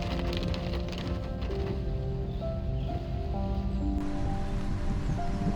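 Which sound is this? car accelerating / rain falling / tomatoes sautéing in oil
rain falling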